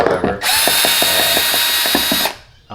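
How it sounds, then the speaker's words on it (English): A power tool whirs loudly for about two seconds, removing Allen head bolts from a Jeep Gladiator speaker grille, a sustained high whine with a ratcheting pulse beneath it, then stopping abruptly. "I'm going to use power tool first to speed this up."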